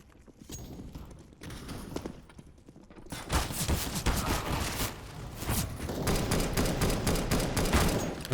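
Automatic weapon fire in a shooter video game such as CS:GO or Valorant: quiet thuds at first, then a dense, loud burst of rapid shots that keeps rattling to the end.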